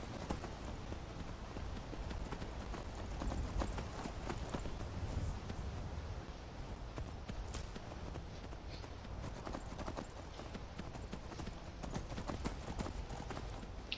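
Horse hooves clip-clop steadily in the video game Skyrim Special Edition, a continuous rhythmic run of close, clear impacts over a constant ambient game background, with no speech.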